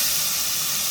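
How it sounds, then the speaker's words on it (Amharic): Onion sizzling in hot olive oil, a loud, steady, bright hiss throughout the brief moment with no talk. "ዘይቱ ትንሽ ሞቅና ሽንኩርት ነው የምጨምረው።"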